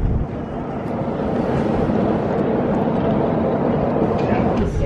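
Strong wind roars and buffets across the open upper deck at the top of Rockefeller Center in Midtown Manhattan, a steady, loud rumble lasting throughout.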